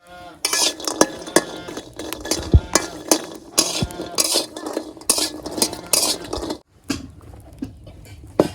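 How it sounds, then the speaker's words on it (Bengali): Pumpkin lentil dumplings (bori) frying in a little oil in a pan in a village kitchen, with steady clattering stirring, utensil scrapes and a faint sizzle throughout, close and fairly loud, with a brief pause near the end. "এখন বড়িগুলো দিয়ে দিলাম হালকা লাল লাল"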